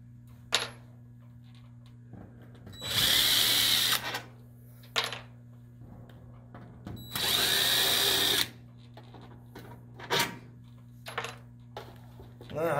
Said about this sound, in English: Try to carefully take the screws out.